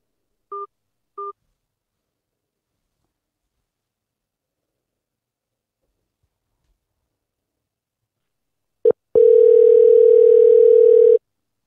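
Telephone line sounds on an international call: two short dialing tones, a brief click, then a steady loud dial tone holding for about two seconds.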